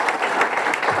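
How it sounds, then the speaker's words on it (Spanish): An audience claps for people who have waited outside in the sun at a political constitutional amendment dialogue event in Esmeraldas; a short burst of dense, steady applause with some crowd noise mixed in. "un fuerte aplauso para todos ellos"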